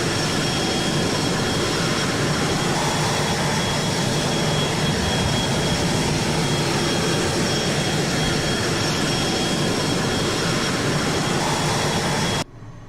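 A Cessna Citation Mustang jet idles after landing in Microsoft Flight Simulator, a steady broadband engine roar with a faint high whine, constant and loud until it cuts off abruptly near the end.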